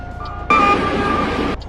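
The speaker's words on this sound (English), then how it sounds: "Gotta be a train." One loud, blaring train horn blast from the Euro Truck Simulator 2 game with the ProMods map lasts about a second, starting abruptly and cutting off sharply against a quiet background hum.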